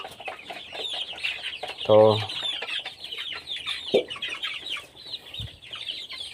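Farm chickens clucking and calling close by, with a sharp squawk and a few louder bursts over a steady background of bird chatter; a voice briefly speaks.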